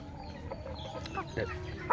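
Native country chickens cluck close by in short, irregular bursts, with a few sharper calls over low farmyard background noise.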